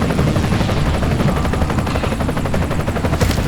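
Helicopter rotor chopping in GTA San Andreas, a dense steady thumping mixed with bursts of rapid gunfire throughout, loud and busy with no talk.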